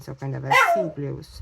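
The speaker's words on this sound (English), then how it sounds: "that is my dog who heard somebody coming to the door" A dog barks sharply a few times close by, mixed in with a person talking steadily over and around the barks.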